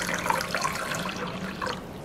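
Water poured into a rice cooker, one cup measured out for a recipe: a light, continuous trickling splash, fairly soft and close, with no talking.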